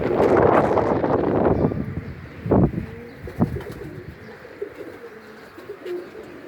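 Pigeons coo softly in a few short calls, following a burst of rough wind and rustling handling noise close to the microphone.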